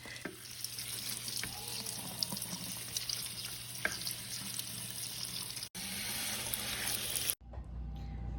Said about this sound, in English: Now that I've completed step 1, which was rinse the spinach and the blueberries